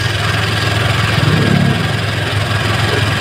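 Honda Click v3 scooter engine idling steadily after an overheating repair, a continuous close mid-low hum with a slight swell around the middle and no talking.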